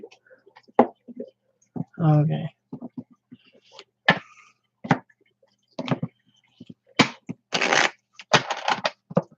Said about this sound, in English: give me a moment to shuffle